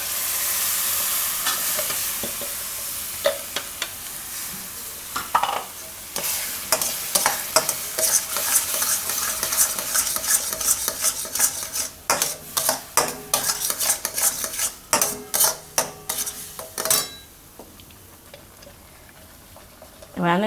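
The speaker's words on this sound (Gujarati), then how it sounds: "આ રીતે ખાલી મિક્સ કરીને એમાં હવે નાખી દઉં આપણે આ ટમેટાની પ્યુરી." Tomato puree stirred and cooked in a pan for Gujarati parvar kofta curry, a steady sizzle broken by many quick scraping strokes and clicks of the spoon against the pan, louder in the second half, with no talk.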